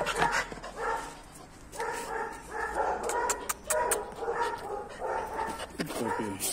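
Dogs playing together, giving a series of yips, barks and whimpers in quick, uneven bursts, fairly close.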